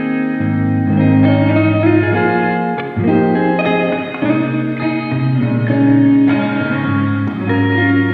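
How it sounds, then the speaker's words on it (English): A guitar played through a reverb pedal on a natural room setting, with sustained chords and notes shifting over about eight seconds, a steady loud ring throughout and no talking. "Here's a little bit more of a natural room sound."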